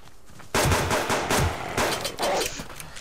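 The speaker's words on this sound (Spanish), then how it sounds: "me voy a liar a tiros con él" Rapid gunfire in the survival video game Subsistence, shooting at a wolf: loud, close bursts of repeated shots in quick clusters, separated by short pauses.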